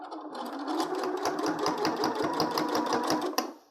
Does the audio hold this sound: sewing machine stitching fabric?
yes